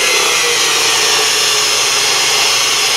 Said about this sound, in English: Taking a real shallow cut here just to clear off anything on the outside of it before I dig in.